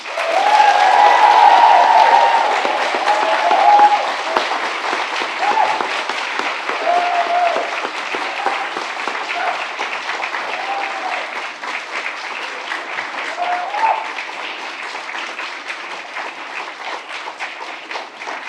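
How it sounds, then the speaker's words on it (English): Sustained applause from a large audience honouring graduates at a university degree ceremony in Dublin, loud and dense at first, then easing slightly while continuing steadily throughout, with a few whoops and faint voices mixed in. "let's start today's celebration by giving all of our amazing graduates a huge round of applause"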